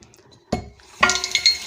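Two sharp metallic clinks of a saucepan being handled in a kitchen, the second followed by a short ringing tail and lighter rattles, close and distinct against near silence.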